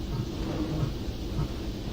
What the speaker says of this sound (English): And I'm going to listen for the sound of the engine.